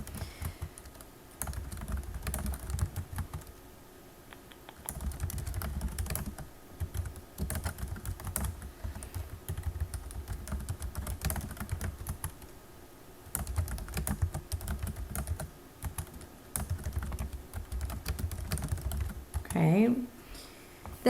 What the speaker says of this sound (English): we're going to type in these headings that are in step 4